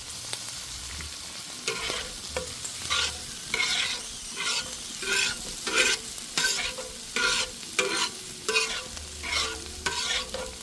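Onion and beans sautéing in a pan for an Italian frittata, a constant sizzle punctuated by regular spatula strokes scraping the pan, close and unaccompanied by speech.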